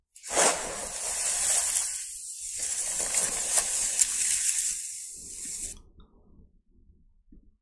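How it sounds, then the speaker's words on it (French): AI-generated rustling leaves, a continuous bright hissing rustle that holds at an even level for about five seconds, then stops abruptly and leaves faint scattered sounds behind. "Le bruissement des feuilles."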